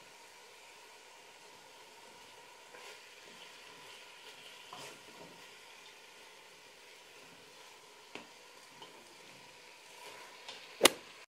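A red and yellow pepper mixture gets stirred as it cooks in a pan, a faint, steady low sizzle with soft occasional spoon scrapes and a sharp clink near the end.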